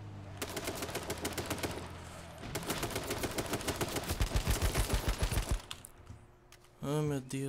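Rapid bursts of gunfire in the survival shooter H1Z1, fast rattling rounds in long strings that build louder, then a pause and a brief voice near the end.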